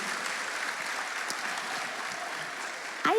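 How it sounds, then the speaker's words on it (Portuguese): An audience applauds at a talk-show style panel discussion, a steady wash of clapping throughout, with a brief sharper sound right at the end. "Palmas, gente."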